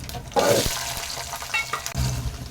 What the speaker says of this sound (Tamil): வெங்காயத்தையும் பூண்டையும் கொஞ்ச நேரம் வதக்கிக்கலாம்